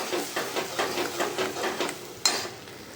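Egg bhurji being stirred in a pan with cooked onions, a steady rhythmic scraping of the spoon, about seven strokes, over a faint sizzle, ending with a sharp metallic tap.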